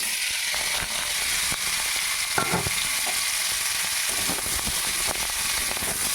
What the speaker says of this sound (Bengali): কড়াতে তেল দিয়েছি তেল গরম হয়ে গেছে এবারে আমলকিগুলো দিয়ে দিলাম